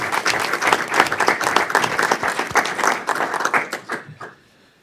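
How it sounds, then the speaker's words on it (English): Applause from the attendees at a city council meeting, a dense burst of many hands clapping for several seconds before tapering off into near silence. "We could give her a round of applause."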